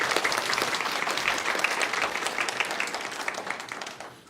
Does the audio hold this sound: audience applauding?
yes